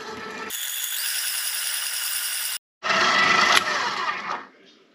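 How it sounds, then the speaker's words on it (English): Electric mixer stirring flour into wet sourdough discard chocolate chip cookie dough, a steady loud whirring rattle that stops briefly and then resumes before fading out, with no talking. "So now we're going to add our flour to the wet mixture. Give that a minute to stir up."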